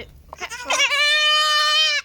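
A young goat kid bleats one long, loud, wavering cry close by as it is caught for worming on a farm, after a few short scuffling noises.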